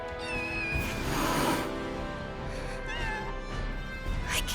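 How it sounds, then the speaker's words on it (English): Kittens meow in a game scene, several high, thin cries spaced across a few seconds, fairly close and clear over a soft background with little talk. "Kittens?"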